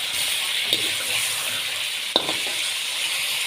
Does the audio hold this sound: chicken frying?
yes